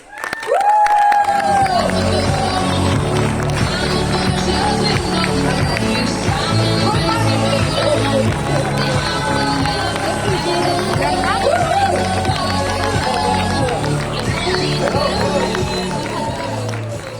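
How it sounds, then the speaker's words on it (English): A loud, boisterous crowd cheers and claps continuously, with shouting voices mixed in throughout. "let's welcome Mr. Luis Santana with a big round of applause"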